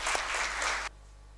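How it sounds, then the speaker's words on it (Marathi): Audience applause at a government investment summit speech, a dense loud burst of clapping that cuts off abruptly partway through, leaving near silence. "तुम्ही सर्वांनी खरंच ह्या कंपनीच्या पूर्ण टीमसाठी टाळ्या वाजवल्या पाहिजेत."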